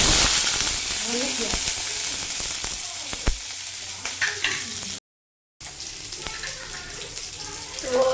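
Nigella seeds and onion frying in a pan for masoor dal, a steady close sizzle with stirring scrapes, broken by a brief gap of silence.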